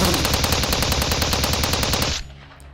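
A loud, fast machine-gun burst rattles continuously in Steins;Gate 0, then cuts off abruptly, leaving a quiet, low hum behind.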